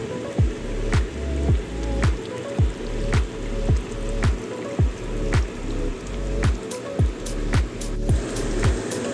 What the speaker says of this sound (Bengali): এখানে আমি আর 5 থেকে 7 মিনিট মতো মিডিয়াম ফ্লেমে ঝোলটিকে ফুটিয়ে নেব